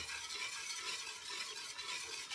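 A condensed milk mixture stirred in a pan, a continuous soft scraping and swishing from the spoon, steady and close, with a faint sizzling wash beneath and no voices.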